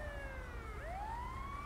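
A police car siren in the video game GTA V Online wails in smooth rising and falling sweeps, steady and fairly close over a low engine rumble.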